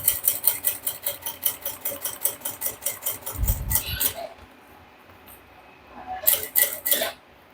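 A sewing machine stitches a bag seam in fast rhythmic bursts, then stops for a back-stitch and a few handling clicks before a short final run of stitches close by.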